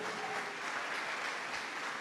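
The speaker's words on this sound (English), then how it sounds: "No, they don't like this kind of clap." A live audience at a church hangout claps hands in a dense, steady wash of applause for visiting children from a school for the deaf, lasting two seconds with no talking.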